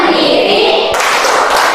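Students in a classroom clap the tepuk PPK routine, a steady run of loud, close, overlapping hand claps and thumps lasting throughout.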